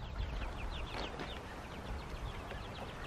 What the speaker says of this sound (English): You keeping an eye on the new chicks there, Figaro?